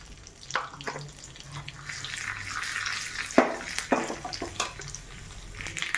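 Cumin and mustard seeds crackling and sizzling in hot coconut oil as a tempering for tomato, onion and mint chutney; soft, close spattering with a few sharper pops, no talk.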